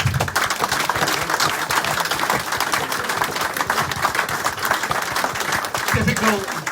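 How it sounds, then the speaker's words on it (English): A club crowd at a rugby gathering gives the players a round of applause, a loud, dense, continuous patter of many hands close by, with voices mixed in underneath. "I think we have to give them a big round of applause, please."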